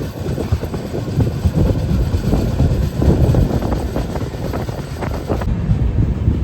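A train on the rails in Madhya Pradesh, running late toward Nainpur Junction on a Kumbh Mela special from Kerala to Gaya, gives a steady, loud, close rumble and clatter with wind buffeting the microphone throughout.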